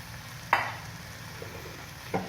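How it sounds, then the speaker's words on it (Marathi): Vegetable momo filling with green chili sauce sautés quietly in a pan, a faint soft sizzle broken by two brief clanks of a stirring spoon and no talk. "याला चांगले 5-6 मिनटं परतू देते"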